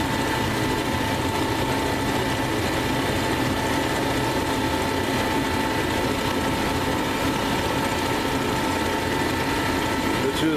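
A metal lathe cuts with a hand-ground high-speed steel tool bit, giving a steady, unbroken machine drone with a faint whine. The hum stays close and even throughout, with a voice talking over it.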